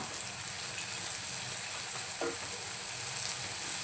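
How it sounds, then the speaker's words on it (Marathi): Onion and green chilli pieces sautéing in a pan for a Malvani-style red amaranth bhaji, a steady, even sizzle throughout. "हिरव्या मिरचीचे तुकडे घालून घेऊया, परतवूया।"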